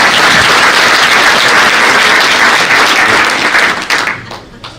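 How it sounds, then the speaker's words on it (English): Loud, dense applause from an audience at a county comptroller inauguration ceremony, steady and sustained before quickly dying away in the final second. "Give her a round of applause for her perseverance."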